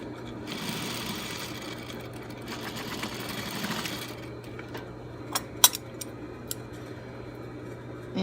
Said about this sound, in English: and we do a top stitch